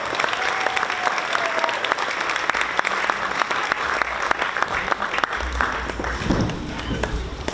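A crowd applauds continuously, dense clapping filling the room at a steady level throughout.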